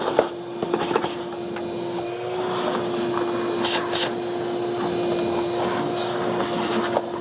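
A vacuum cleaner runs inside a van, sucking up metal shavings left from drilled holes, with a steady loud whining drone and occasional rattling bursts as debris is pulled in.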